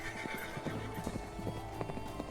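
Tired horses break into a gallop in a silent canyon, with a quick, continuous clatter of hooves and whinnying up close, fairly quiet and without speech.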